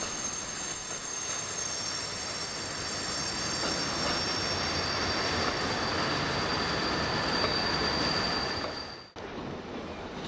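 A train rolls through Toulouse Matabiau railway station with a loud, sustained rumble and high, steady wheel squeal, ending with a sudden dip.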